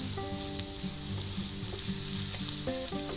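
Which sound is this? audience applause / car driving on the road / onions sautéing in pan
onions sautéing in pan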